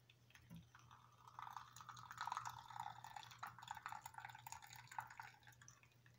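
Water is poured from a steady trickle into a pouch of Danish military ration food mixed with sugar, quiet and close, over a faint low hum.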